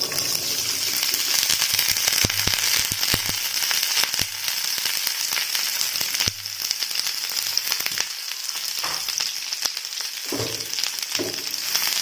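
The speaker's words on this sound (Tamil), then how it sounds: "நம்ம கட் பண்ணி வச்சிருந்த கோவக்காயை உள்ள சேர்த்துடலாம்." Chopped ivy gourd frying hard in hot oil, a loud, steady crackling sizzle with sharp popping bursts that runs the whole time, easing a little near the end with some stirring clatter.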